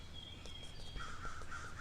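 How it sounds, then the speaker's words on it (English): A crow caws outdoors, a few hoarse repeated calls at moderate distance over a soft steady background hiss. "listening to the crow talking to me."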